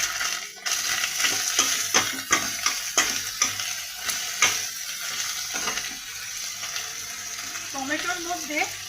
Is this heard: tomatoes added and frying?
yes